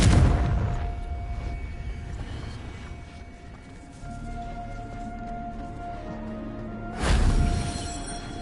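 A blasting Confringo spell explosion from Hogwarts Legacy bursts out loud at the start, rumbles off, then a second heavy boom hits near the end.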